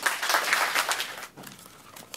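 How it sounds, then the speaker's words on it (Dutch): A short burst of audience applause, dense clapping that fades after about a second into quieter room tone. "Een hartelijk applaus voor Robin, alstublieft."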